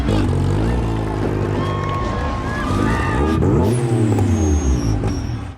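A Mitsubishi Eclipse's engine revs hard in a film scene, loud and close, with a rising then falling roar over a continuous engine drone and some high whine near the end.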